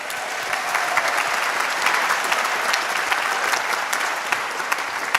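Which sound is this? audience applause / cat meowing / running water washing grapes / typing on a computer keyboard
audience applause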